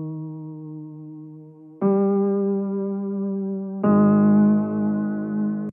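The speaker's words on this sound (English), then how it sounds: "Next to that, we have this lead piano" A lead piano patch from Omnisphere drenched in wobbly Valhalla Room reverb plays three long sustained chords, each entry louder and fuller than the last, with no voices.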